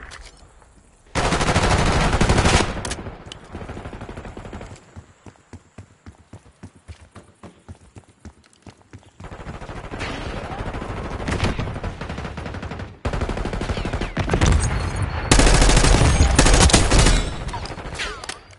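Black Ops 6 ranked multiplayer gunfire: long sustained bursts of automatic fire alternate with rapid single shots and brief pauses, loud and close, with game effects and occasional voices underneath.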